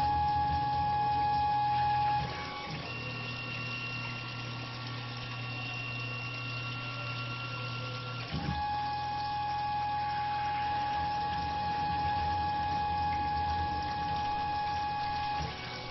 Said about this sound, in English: 250 RPM and 5 inches per minute feed on the 7/16 reamer.